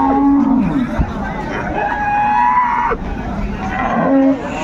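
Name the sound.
dairy cows and calves mooing at a cattle market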